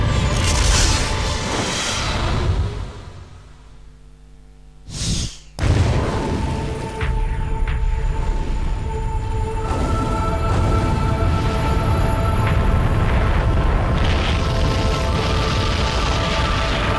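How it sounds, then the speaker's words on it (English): An explosion in the Resident Evil 3 video game: loud low booms and whooshing bursts, a brief sharp blast near the middle, then a sustained rumbling roar with lingering tonal game sound. "Always ends with an explosion, doesn't it? Always has to be an explosion."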